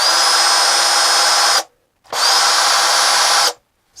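A Litheli U20 cordless drill driver with a metal chuck runs in low gear, whining loudly in two sustained bursts of about a second and a half each, split by a short pause, with no voices.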